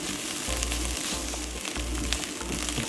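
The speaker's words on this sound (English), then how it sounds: "Stir frying it for 2 or 3 minutes." Korean-style fried rice stir-frying in a hot pan, a steady close sizzle and crackle of frying food with occasional stirring scrapes, no talking.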